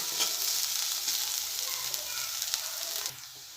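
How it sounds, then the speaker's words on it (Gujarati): Chopped green garlic sautés in a pan for a millet-flour kadhi, a close, bright, continuous sizzle with small crackles that drops off sharply near the end, with no voices. "3 મોટી ચમચી એટલું લીલું લસણ એડ કરી દઈશું। એને આપણે 2 મિનિટ સાતરી લઈશું"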